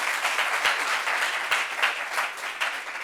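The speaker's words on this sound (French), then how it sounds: "On applaudit Eric Manigan." An audience claps steadily and fairly densely for about three seconds at a French-language church gathering, heard from a moderate distance with no voice over it.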